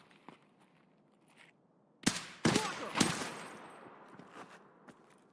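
Gunfire in Escape from Tarkov: soft footsteps and movement, then several loud, close bursts of shots in quick succession, with echoing tails that fade while quieter steps continue.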